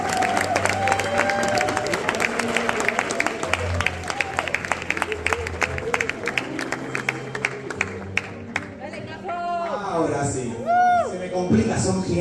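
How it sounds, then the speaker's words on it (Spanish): A crowd at a fursuit dance competition awards ceremony claps and cheers loudly for a second-place winner, the sharp dense clapping fading as excited voices and shouts rise toward the end. "Fuerte el aplauso para Gazón"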